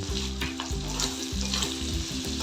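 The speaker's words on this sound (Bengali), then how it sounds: "চিংড়ি মাছগুলোকে ভেজে নেব।" Small shrimp coated in turmeric and salt frying in hot oil, a loud, close, dense sizzle and spatter that runs without a break.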